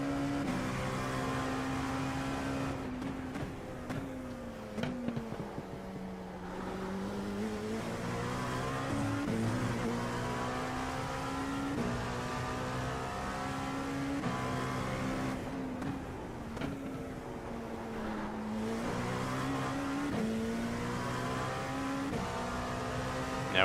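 LMP2 race car in the iRacing video game, its engine whining up through the gears and dropping on downshifts again and again, loud and close, with occasional tire squeal.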